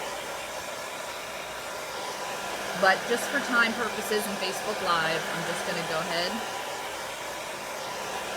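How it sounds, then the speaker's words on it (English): A hair dryer on its hot setting blows to dry chalk paste, a loud, steady rushing hiss running through the whole stretch while someone talks over it. "I like to use my hair dryer on hot."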